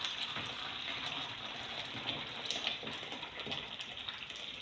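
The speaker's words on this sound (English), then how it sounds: "I'm adding hot water now so that the dough can proof." Hot water poured into a bowl to proof focaccia dough in a home kitchen, a steady faint close stream of splashing liquid running for several seconds with no talk.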